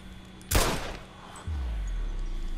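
A gunshot from the video game Watch Dogs cracks out as one loud, sharp blast, and a low rumbling hum follows a moment later.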